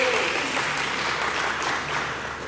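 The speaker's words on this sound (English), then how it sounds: "We're celebrating 25 years, and I think we can clap on that." Audience applause at a ceremony marking 25 years of the SADC Media Awards, a steady wash of many hands clapping throughout, moderately loud and fairly close, with no talking over it.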